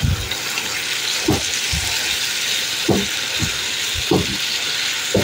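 Beef kofta mixture with a splash of lemon juice sautéing in a pan, a steady soft sizzle broken by a few low thumps of stirring, with no talking.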